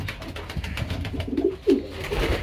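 Pigeons coo in a pigeon loft where new hens have been added, with soft repeated throaty coos rising over low rustling and shuffling nearby.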